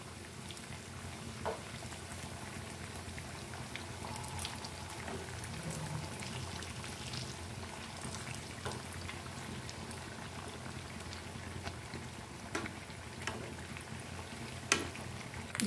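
Odisha kakara pitha cakes frying in hot oil: a steady, soft bubbling sizzle with scattered faint crackles and pops, continuing unbroken for about fifteen seconds.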